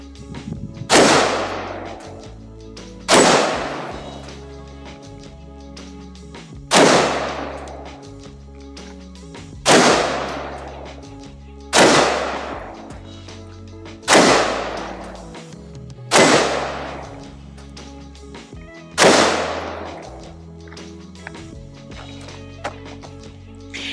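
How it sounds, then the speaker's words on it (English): A CZ BREN 2Ms rifle fired as eight loud, sharp single shots spaced roughly two to three seconds apart, each followed by a short decaying echo, with no talk. "So with that being said, let's go shoot it."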